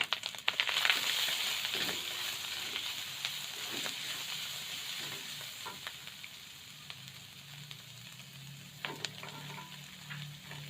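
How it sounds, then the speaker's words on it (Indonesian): Carrots and green beans stir-frying for capcay, a steady close sizzle and hiss with scattered scraping stirs, alone without talk. "terlebih dahulu kita tumis wortel dan buncisnya"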